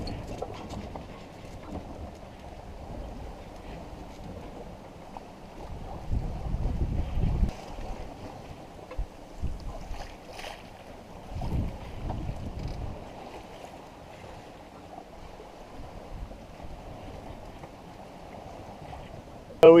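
A Tartan 37 sailboat under sail on the open ocean, with steady wind buffeting and water rushing along the hull, swelling in occasional louder gusts and splashes, no voices.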